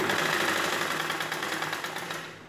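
A sewing machine stitching a blouse runs steadily with a fast, even mechanical whir and rapid needle ticking, close and continuous, slowly fading slightly at the end.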